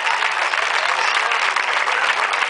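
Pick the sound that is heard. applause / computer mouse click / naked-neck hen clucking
applause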